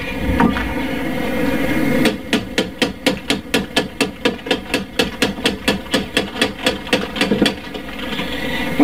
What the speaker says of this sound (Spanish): O se le pega con el martillo.